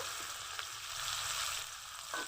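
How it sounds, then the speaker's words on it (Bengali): Chopped onion with a little chopped garlic frying in hot oil in a wok for a shapla curry, a constant close sizzle broken by a couple of soft stirring scrapes. "পেঁয়াজগুলো একটু ভাজা ভাজা করে নিব।"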